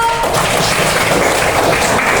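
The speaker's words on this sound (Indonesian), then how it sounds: "Tepuk tangan dulu." A class of students applauds together in a classroom, giving a dense, steady burst of loud clapping for about two seconds with no talking over it.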